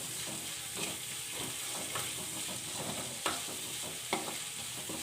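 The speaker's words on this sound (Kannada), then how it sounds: "ಹಾಕ್ಕೊಂಡು ನೀಟಾಗಿ ಫ್ರೈ ಮಾಡ್ಕೊಳ್ಳಿ" Onion with curry leaves frying in a pan for a drumstick-leaf and flower palya, a loud continuous sizzle with a few sharp stirring scrapes and clinks, no voices.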